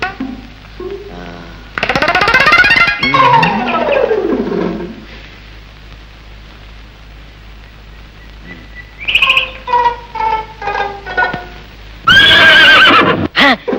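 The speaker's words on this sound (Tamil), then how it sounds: "மரத்துக்கு பக்கத்துல குதிரை." A horse neighs loudly and whinnies in a comedy scene set near a tree by a temple, with several long calls alongside bird chirps and a clip-clop sound, close and clear.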